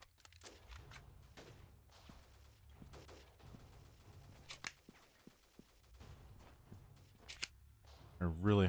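Gunfire in the game Freeman: Guerrilla Warfare during a factory defense, scattered sharp shots and short bursts at moderate distance, fairly quiet over a low background, with a louder burst near the end.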